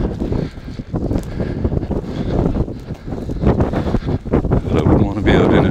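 Strong blizzard wind gusting in Iqaluit buffets the microphone with constant loud roaring and rustling while someone talks over it throughout.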